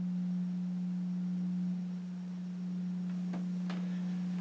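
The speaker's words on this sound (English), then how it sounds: "Fan has a very interesting motor hum to it, unlike any others I've heard." A Thomas T3 ceiling fan motor gives off a steady, pure, low hum that holds constant throughout, with a couple of faint clicks near the end.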